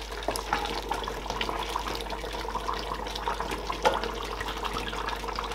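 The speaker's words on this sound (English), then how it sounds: "I might add a little bit of water, so I add a small cup of water in it." Water pours steadily into a cooking pot of Nigerian bitterleaf soup (ofe onugbu), a continuous close splashing trickle that holds at an even level for several seconds with no talking.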